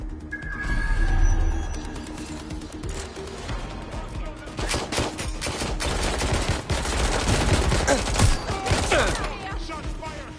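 Gunfire in the Watch Dogs: Legion video game: a loud stretch of rapid shots and automatic bursts that builds from about four seconds on, thick and continuous, with a low game score underneath and no speech.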